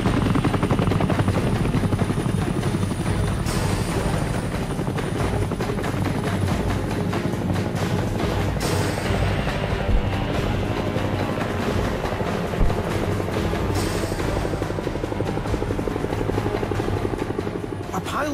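Military helicopters flying in to a rescue during the Vietnam War, their steady loud rotor thump and engine drone filling the whole stretch without letup.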